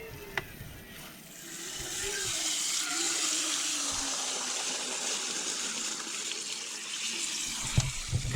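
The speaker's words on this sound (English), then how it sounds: "when I put pressure to it, if it blows the, I blew the hose off" Water sprays and gushes hard from a hose that has blown off its fitting at a truck camper campsite, a loud steady rush lasting several seconds with no talk over it.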